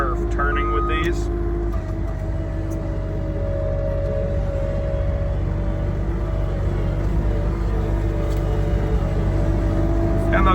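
A GiANT G2700 HD+ articulated wheel loader with four-wheel drive drives off a curb onto a parking lot, its engine a steady, close, loud drone with a constant hum throughout.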